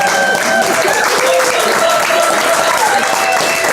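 Audience applause rings out for Thomas Debass, a partnership co-founder, at an inaugural program on entrepreneurs working with the U.S. government; dense, steady clapping fills the whole stretch with faint voices mixed underneath.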